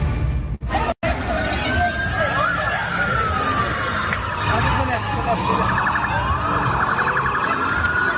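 Police car sirens wail continuously with rising and falling pitch sweeps at a street scene, loud and sustained over busy background noise, after two brief dropouts near the start.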